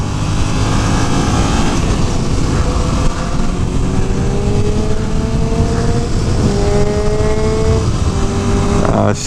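A 2015 Yamaha MT-07 motorcycle engine drones loudly while riding, its pitch climbing steadily through the gears with brief drops at each shift, mixed with heavy wind rush throughout.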